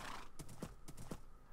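A horse galloping in the video game Minecraft, faint rhythmic clip-clop hoofbeats in a quick even series of about four strikes, no talk.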